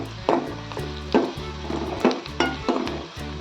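Red chilli powder and turmeric sautéed in a pan for a dry broad-bean (val shenga) bhaji, with a soft sizzle under several sharp scrapes and stirring knocks of a spoon against the pan, repeating at a steady, close rhythm.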